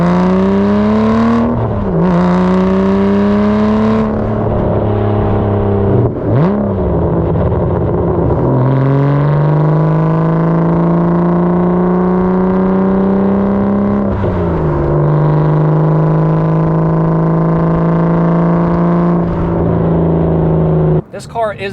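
A manual Aston Martin DBS supercar engine sounds loud and close from inside the cabin. Its deep harmonic drone climbs and falls through gear changes, then settles into steady cruising, with some talk over it.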